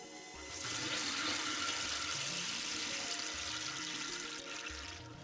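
Water rushes steadily through a Clearion water softener as it cycles into backwash with the unit in bypass, a broad continuous flow that swells in and holds at moderate level.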